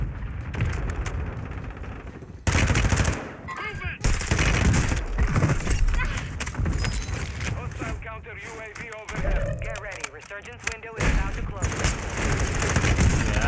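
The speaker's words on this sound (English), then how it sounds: "This airstrike really threw the enemy team off." Warzone 2 airstrike tearing through an area: a dense, continuous barrage of booming blasts and crackling gunfire, loud and chaotic throughout with brief dips, with voices talking in the mix.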